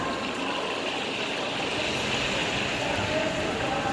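A whole snapper fries in hot oil at a cooking show stage, producing a loud, continuous, even sizzle and bubbling hiss that stays steady throughout without pauses.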